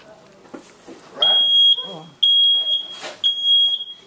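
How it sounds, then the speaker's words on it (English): Smoke alarm during a classroom fire-safety lesson, a loud piercing tone sounding in three long bursts with brief gaps, while children and an adult talk over and between the beeps. "The smoke alarm's going off."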